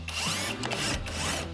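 A power tool, most likely an impact wrench, runs almost continuously while unbolting the rear dampers and brake components on a BMW, a steady close whirring with slight pitch dips and no talk.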